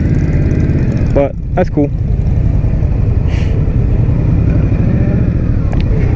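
A 2021 Indian Scout Bobber Twenty motorcycle rides along a track, its engine rumbling loud and steady under heavy wind noise, with a brief burst of speech near the start.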